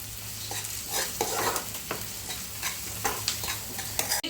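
Food frying and sizzling in a pan, with steady crackling and occasional stirring scrapes heard up close, no talking.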